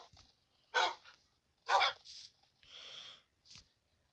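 Several dogs bark in sharp separate bursts, two loud barks followed by softer yips and a whine, close by with quiet gaps between them.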